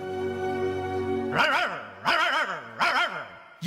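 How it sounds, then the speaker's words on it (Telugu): A dog in a Telugu film scene gives three loud, separate barks in quick succession, close by, after a sustained tonal sound at the start. "ఏంటే కుక్క అట్టా సొత్తున్నావు?"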